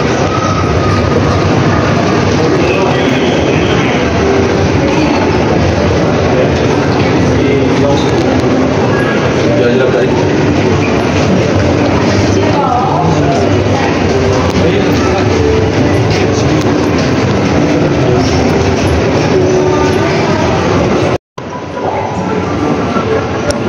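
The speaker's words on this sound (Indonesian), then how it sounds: "saat bentar lagi gue mau naik ini KLIA Express" KLIA Express airport train at Kuala Lumpur International Airport Terminal 2: loud, continuous rumbling rail noise with a steady roar throughout, briefly cutting out near the end.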